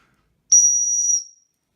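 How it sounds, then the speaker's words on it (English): A plastic rescue whistle from a car survival kit gives one loud, steady shrill blast of about seven-tenths of a second, with a breathy edge and a quick fade, alone in silence. "It has a rescue whistle here on the top."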